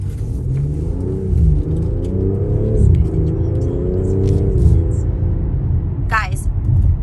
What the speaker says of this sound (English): You can hear her flutter a little bit while I'm driving.